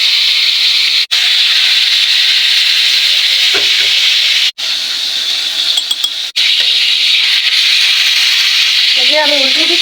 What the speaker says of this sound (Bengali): একে আমি সবগুলো চিকেন দিয়ে দিলাম, খুব সুন্দর করে ভাজা হতে চেপে না